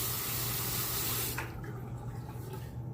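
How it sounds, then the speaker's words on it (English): Running water splashes as a Hoffritz slant razor is wetted in a basin, a steady loud rush that drops to a softer trickle and dripping halfway through, with no talk. "Drained a little bit of water I got in the basin there, and I'll wet the razor."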